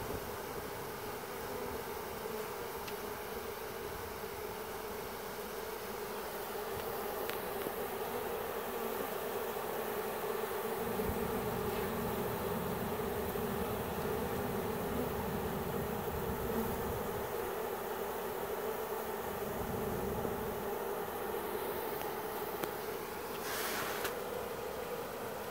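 A swarm of honey bees settles into an empty hive box, giving a steady, dense buzzing drone that holds for the whole stretch with no talk, sometimes swelling slightly as the swarm moves.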